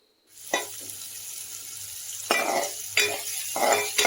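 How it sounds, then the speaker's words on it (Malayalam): Coriander and curry leaves sautéing in hot oil in a pan while a chicken roast is being cooked, with a loud sizzle that swells each time they are stirred and several clinks of a spoon against the pan. "അതിലോട്ട് നമുക്ക് നമ്മുടെ മല്ലിയിലയും കറിവേപ്പിലയും കൂടി ചേർത്ത് കൊടുക്കാം."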